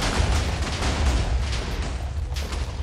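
Explosions in a Minecraft flat world rumble in a dense, continuous booming roar with repeated bursts and heavy low-end blasts, loud and with no talking over them.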